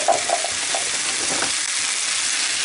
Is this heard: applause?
no